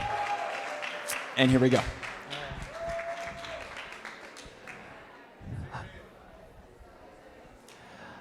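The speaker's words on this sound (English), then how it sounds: "let's give him a big round of applause" Wedding guests applaud the best man in a moderate, fairly distant patter of clapping, with a brief musical tone and speech over it early on and a short swell of clapping later.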